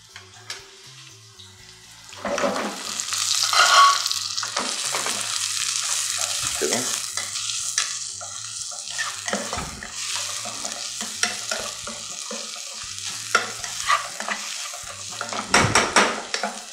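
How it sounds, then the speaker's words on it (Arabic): Onion drops into a drop of hot oil and fries with a loud, sustained sizzle that starts a couple of seconds in, with occasional clinks and scrapes of a pan and utensil. "ادي نقطة زيت، وبنزل بالبصلة بيها الصدمة"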